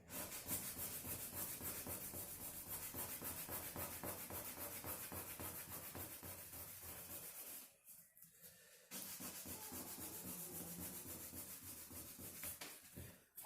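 Number 020 sandpaper rubs over a carved piece in continuous, rapid, close scratchy strokes, pausing for about a second midway before resuming.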